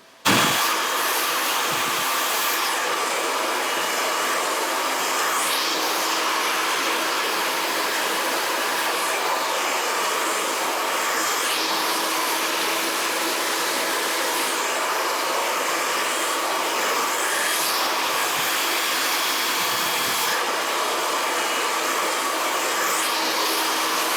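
A hair dryer blows steadily and loudly through a natural-hair blowout, keeping a constant whooshing roar from start to finish with slight shifts in tone as it moves.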